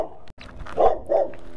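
A dog outdoors lets out two short, loud barks in quick succession, close by, with no talk over them.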